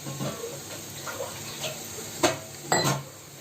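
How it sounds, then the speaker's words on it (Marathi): Dal is washed by hand in water in a vessel, with soft swishing, a few splashes and light clinks against the pot, quiet and close. "ही डाळ आहे मी करते, चांगलं असं धुवून घ्यायचं."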